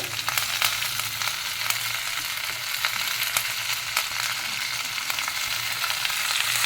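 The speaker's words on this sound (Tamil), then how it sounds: "4 வரமிளகா, ஒரு காஷ்மீர் மிளகா கலருக்காக போட்டுட்டேன். இதெல்லாம் நல்லா வதக்கிட்டு" Four dried red chillies and a Kashmiri chilli fry in hot oil in a pan, giving a steady close sizzle with scattered crackles and pops throughout, no talking.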